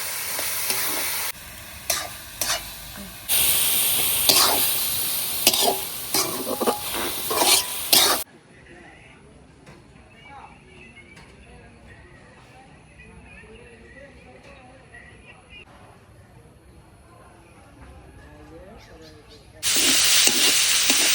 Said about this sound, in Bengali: 4-5 মিনিটের মতো লাড়াচাড়া করে মাংসের পুরটারে একটু বাজিয়ে নিলাম।